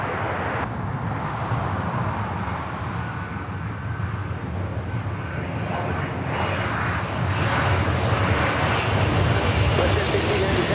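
An Austrian Airlines Boeing 777-200ER taxis or rolls at LAX with its jet engines roaring steadily, swelling louder toward the end, and faint speech over it.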